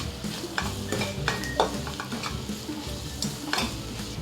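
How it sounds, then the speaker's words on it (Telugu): Onions frying with masala paste, ginger-garlic paste and curry leaves for a tomato chicken gravy, stirred in a pan under a steady loud sizzle, with scraping strokes from the spoon and a few clinks. "ఈ ఉల్లిపాయలకి మసాలా పట్టేలాగా బాగా మిక్స్ చేసుకోవాలి"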